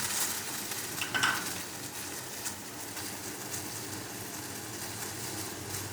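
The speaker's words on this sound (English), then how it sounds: "just put all the ingredients into the boiling water" Tea ingredients for an Ayurvedic Kapha or Vata dosha tea drop into a pot of boiling water, giving a steady bubbling hiss with a brief clink near the start.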